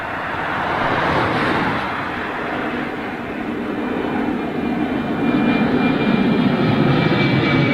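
An airplane passes at Gatwick Airport, a loud steady roar of aircraft engines that swells and holds throughout, with no talking.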